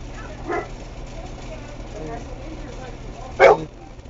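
A pet dog barks indoors, two short bark bursts near the start and another louder one near the end, over a low steady room hum.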